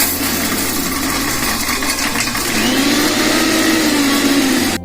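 Kitchen blender grinding Oreo biscuits into powder for a milkshake, a loud steady motor whine with a pitch that bends upward midway, running continuously and then cutting off abruptly at the end.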